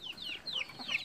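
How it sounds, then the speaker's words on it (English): A chicken clucks in a short run of three or four quick, close, high-pitched calls, each sliding downward, with no talking over it. "And this is my other chicken."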